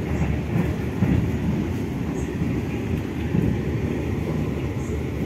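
Economy-class train rolling along rails, heard from inside the carriage: a steady, loud low rumble with faint rhythmic clatter from the track, continuous throughout with no talking.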